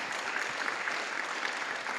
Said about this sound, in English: So big round of applause for those guys.